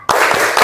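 An elementary-school class performs the Tepuk PPK clapping chant, a burst of group claps and voices that sounds close and fairly loud, with a short rhythmic pattern across the moment.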